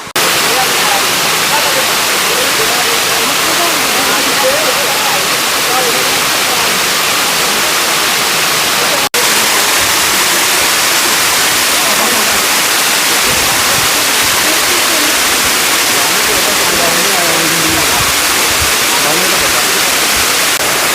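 Garden waterfall pouring at Rock Garden in India, a steady broad wash of falling water filling the scene throughout, with some faint background sound mixed in.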